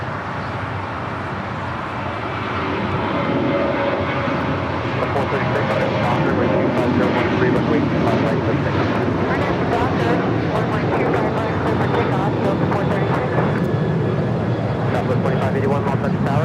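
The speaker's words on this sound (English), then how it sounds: "Next departure, Delta Airlines Flight 436 heading to JFK and a 757-200." Delta Airlines Boeing 757-200 departing LAX for JFK, engine roar that swells and stays loud, heard under ongoing talk.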